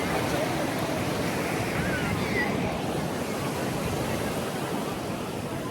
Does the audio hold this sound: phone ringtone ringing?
no